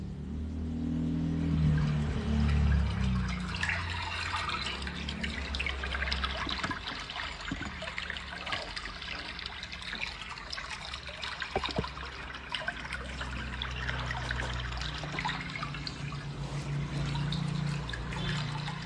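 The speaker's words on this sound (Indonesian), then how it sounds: "suara air mengalir tenang." Calm water flows steadily in a continuous gentle trickle, with low rumbling undertones swelling at the start and end, with no voices.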